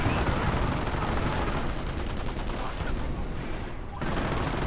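Video game gunfire comes as dense, continuous rattling bursts, a machine-gun-like clatter holding steady and loud, with a brief drop-off near the end before it resumes.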